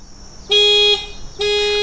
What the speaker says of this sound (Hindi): आपकी गाड़ी का जो हॉर्न है और जो लाइट्स है अपने आप ब्लिंक करने लग जाएगी